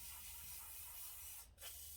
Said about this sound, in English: I'm going to give this screw a damn good spray as well